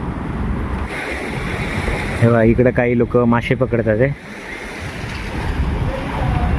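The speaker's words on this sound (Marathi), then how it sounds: "पूर्ण वाहतं पाणी, खूप वाहतं." Steady rushing roar of fast-flowing floodwater under a bridge in Mumbai rain, with someone speaking briefly over it in the middle.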